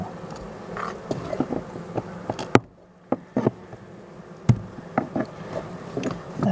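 Honeybees buzz around close by at a hive with a steady drone, punctuated by scattered clicks and bumps from nearby handling.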